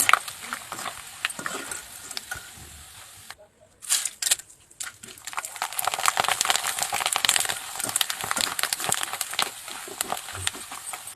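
Dried potato chips fry in hot oil with a dense, steady crackling sizzle that drops out briefly near the middle and then swells louder for the rest.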